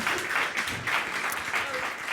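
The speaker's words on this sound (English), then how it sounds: "Give her applause." Applause from a conference audience welcoming a speaker to the stage, a steady crowd of clapping filling the whole stretch without a break.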